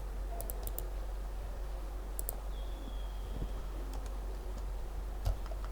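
Typing on a computer keyboard during a WordPress setup, heard as a few faint, scattered key clicks over a steady low hum, with no talking.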